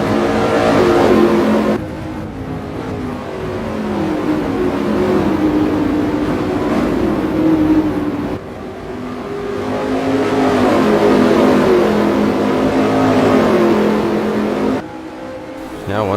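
Street stock race cars roaring around an oval track, engines rising and falling in long waves as the pack passes, with a commentator talking over the noise.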